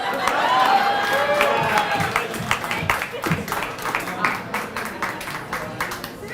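An audience at the Louisiana Film Prize finalist announcement cheers and applauds a new sponsor named Jaya, with whoops at the start giving way to steady, rhythmic clapping that continues to the end.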